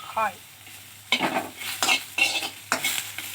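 Green chillies, a handful of them, fry and get stirred in hot oil while a Kannada home cook makes bassaru. Several short bursts of sizzling and stirring come in quick succession, close and fairly loud, with no talk.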